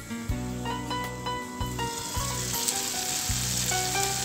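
Tomato masala for a spring onion tomato curry cooking in a pan, a steady close sizzle and frying hiss running throughout, with metallic stirring or tapping notes over it and no voices.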